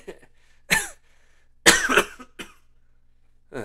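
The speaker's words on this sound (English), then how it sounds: "Still getting over a cough here." A man coughs in a few sharp, close bursts: one short cough, then a longer harsh cluster of two or three, followed by a final lighter cough, with quiet pauses in between.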